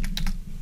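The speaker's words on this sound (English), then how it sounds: "got to type the right symbol" Keys on a computer keyboard tap quickly, three or four close, crisp keystrokes in a short burst at a desk, with no talking.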